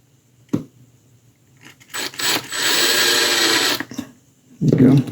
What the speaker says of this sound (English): And I'm going to use my drill bit this time.